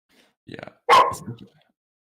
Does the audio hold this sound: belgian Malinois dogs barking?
yes